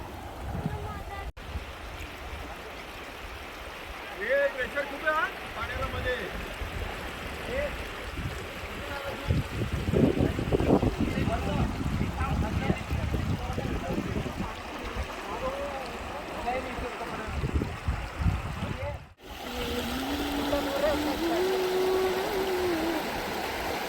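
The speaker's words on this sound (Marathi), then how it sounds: "एकदम वाहतं पाणी" Steady rushing of the flowing Kosi River runs throughout, with voices talking over it.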